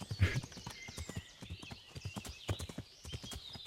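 Horse hooves clip-clop at a quick, steady gallop in the medieval game Kingdom Come: Deliverance, with sharp rhythmic strikes close by and a brief whinny near the start.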